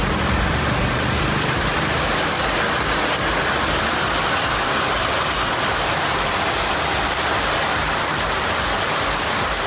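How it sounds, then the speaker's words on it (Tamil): Steady, loud rain falling across the Nilgiris district, a dense unbroken hiss that fills the whole stretch without pause or voices. "நீலகிரி மாவட்டங்களில் பரவலாக மழை பெய்தது"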